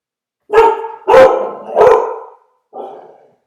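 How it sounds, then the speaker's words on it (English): A dog indoors barks at people walking by outside: three loud, close barks in quick succession, then a shorter, softer fourth bark after a pause. "A couple people walking by outside real loud scared my dog."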